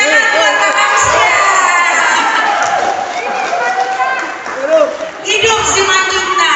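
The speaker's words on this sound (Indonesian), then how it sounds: "Tepuk tangan buat Kakak Usia." A crowd at a Christmas celebration bursts into loud, sustained cheering and shouting with clapping, children's voices prominent, swelling and fading over several seconds near the listener.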